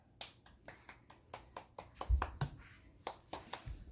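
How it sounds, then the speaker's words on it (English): A young boy claps his hands at home, a string of light, uneven claps close by with a couple of soft thumps among them. "Clapping your hands!"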